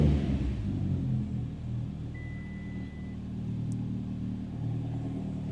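A Mitsubishi Lancer Evolution X engine with a twin-disc clutch idles with a low, steady exhaust rumble, continuous and fairly close, with no talking.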